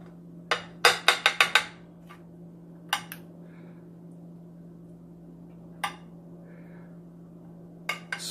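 A metal spoon scrapes and clinks against a baking dish while spreading sauce over tortellini, a quick burst of close taps followed by a few isolated knocks over a low steady hum.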